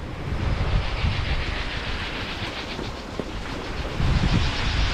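Steady wind roars and buffets close to the microphone aboard a sailboat near Sardinia, with a low rumbling rush that swells louder toward the end.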